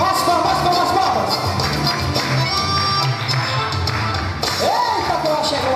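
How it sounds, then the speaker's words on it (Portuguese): A church congregation claps hands in rhythm with a lively accordion throughout a worship service, the music and clapping dense and steady, with a voice speaking over them. "As palmas, palmas, palmas."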